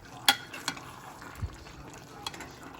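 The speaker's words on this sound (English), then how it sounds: "We'll give it a stir." A spoon stirring food in a pan while cooking an Asian-style dish, a few scrapes and light clinks against the pan, quiet and sparse.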